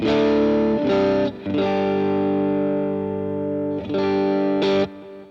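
An electric guitar rings out sustained chords through an AC30-style amp model on a Boss GX-100, a chimey, slightly driven edge-of-breakup tone, with brief pauses between strums.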